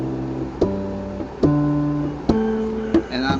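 Guitar strings plucked and left ringing, slightly out of tune, with four separate struck notes spaced about a second apart, each decaying before the next, close and moderately quiet.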